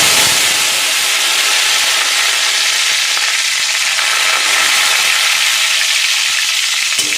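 Cumin seeds and water-soaked asafoetida fry in hot oil with a loud, steady sizzle and hiss that holds close and unbroken throughout, with no voices.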